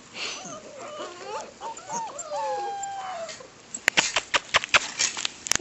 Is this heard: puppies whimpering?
yes